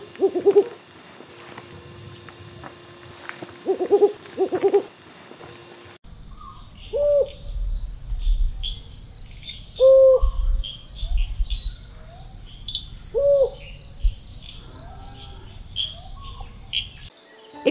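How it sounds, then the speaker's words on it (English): A mottled wood owl (Strix ocellata) gives loud, harsh hoot calls repeated at spaced intervals, with a steady chorus of crickets and insects underneath. "Their presence in a place can be easily detected by their distinctive loud harsh hoot calls"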